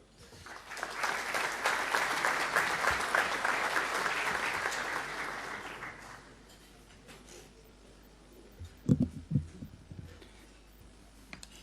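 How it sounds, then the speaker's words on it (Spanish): An audience at a conference on infrastructure in Uruguay applauds the arrival of a speaker, a company director; the clapping is moderately distant and fades out after about six seconds, followed by a few soft thumps and a quieter room. "un aplauso para él"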